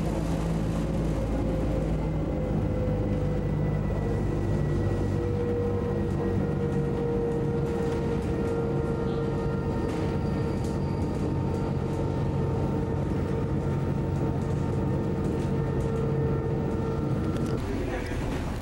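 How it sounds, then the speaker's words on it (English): A freight train rumbles past, a loud continuous low roar with steady droning tones and faint screeching overhead, lasting throughout. "Freight train pulling through right now."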